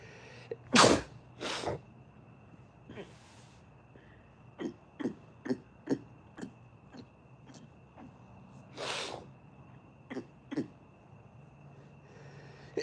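A person sneezes again and again, with one loud sneeze near the start followed by a long run of short, sharp sneezes or snorts in uneven rhythm, close to the mic.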